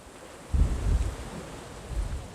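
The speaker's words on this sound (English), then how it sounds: "Wow, that's windy." Wind buffets a microphone while riding a motorbike through traffic, with low rumbling gusts that swell in bursts and roar, then ease, continuous and loud with no talk.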